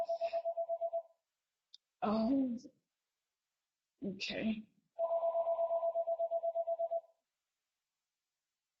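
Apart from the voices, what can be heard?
mobile phone ringing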